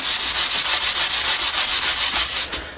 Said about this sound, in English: Just got a last rub over of 600 grit